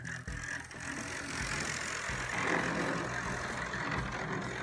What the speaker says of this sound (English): Well, the motor's turning now, let's put it back on.